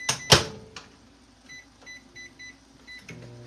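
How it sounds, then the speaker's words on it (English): A microwave oven runs while cooking carbs, a loud clunk at the start followed by a steady low hum with a series of soft evenly spaced beeps near the end. "5 minutes in the microwave and boom"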